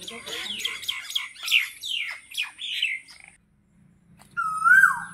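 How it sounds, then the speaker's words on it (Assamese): Birds call around a house set among green surroundings in rural Assam in the morning: a run of quick, bright chirps and trills close by, a short lull with a low hum, then a louder, drawn-out squawking call at the end. "আহকচোন প্ৰথমে অকণমান চৰাই মাতকে শুনো।"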